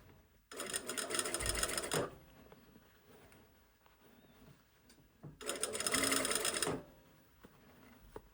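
A sewing machine stitches an all-in-one facing onto a bodice in two bursts of steady rapid whirring, each about a second and a half long, separated by a quiet pause.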